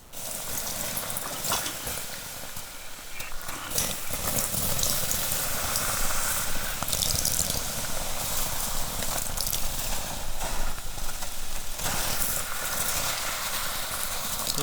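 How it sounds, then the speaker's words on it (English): Water poured onto a hot metal BioLite fire pit sets off loud, continuous hissing and crackling steam with bubbling and sputtering, close and steady throughout. "You got a lot of metal parts in there, so it's steaming a lot more, making a lot more racket."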